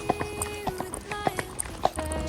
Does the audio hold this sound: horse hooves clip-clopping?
yes